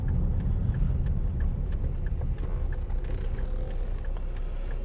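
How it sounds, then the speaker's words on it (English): A car's turn indicator ticking steadily at a regular pace, crisp clicks sitting over the low rumble of the engine and road noise inside the moving vehicle, no talking. "I'll get the indicator on then"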